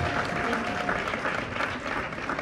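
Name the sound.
audience applause at award ceremony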